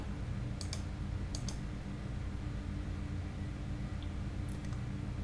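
A few sharp, quiet clicks of a computer mouse, some in quick pairs, sound alone against a faint steady background hum.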